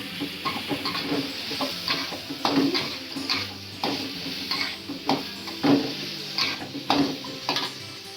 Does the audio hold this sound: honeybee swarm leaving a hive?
no